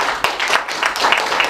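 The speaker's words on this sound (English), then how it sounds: "Give them a round of applause." Short burst of audience clapping for a panel, with distinct individual claps audible in an uneven, close rhythm over about a second and a half.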